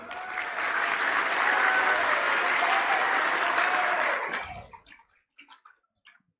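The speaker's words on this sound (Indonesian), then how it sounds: "Tepuk tangan untuk beliau." An audience applauds the President at an official Indonesian event: a full burst of clapping rises quickly, holds strong, then fades out into a few scattered claps and silence.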